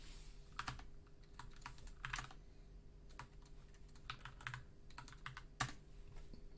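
Keys clatter on a mechanical keyboard in uneven bursts of rattling clicks, close and fairly quiet over a low steady electrical hum.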